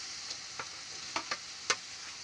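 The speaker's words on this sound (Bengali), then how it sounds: "এবার আলুগুলো দিয়ে দেবো" Potatoes stirred into a spice mixture frying in a pan for a Bengali bhola fish dish: a steady soft sizzle broken by a few sharp scraping stirs.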